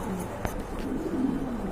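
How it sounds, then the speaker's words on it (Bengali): A pair of Mundian pigeons coos close by in soft, low, rolling phrases that run almost continuously, with a brief sharp tap partway through. "দেখতে পাচ্ছেন এক জোড়া মুন্ডিয়ান কবুতর রয়েছে এখানে, খুবই সুন্দর"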